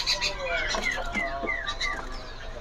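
Ledekan Gunung Aceh songbird at a bird market, giving a run of high chirps and short whistled notes over steady market background noise, close and moderately loud.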